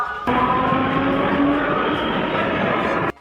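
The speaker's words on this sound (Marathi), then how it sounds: "आज आपण बदलापूर रेल्वे स्टेशनवर भेटूया" A train at Badlapur railway station rumbling steadily and loudly with a faint whine running through it, continuous for about three seconds before cutting off.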